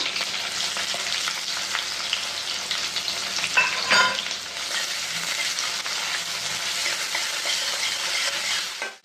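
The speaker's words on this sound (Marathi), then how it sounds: "आता बघा, याच्यामध्ये हा टाकते मी कांदा हां." Chopped onion hits hot oil with curry leaves and green chillies in a pan, a loud continuous sizzle and fry with stirring scrapes, one brief sharp clatter partway, no talk.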